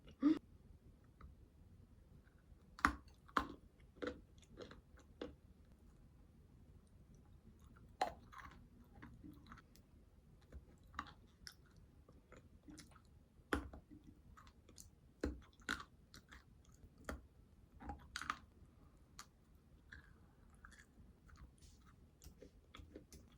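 Melon-flavoured bread being chewed close up in a quiet room, with crisp, irregular bites and clicky crunches spread across the whole stretch. No one talks.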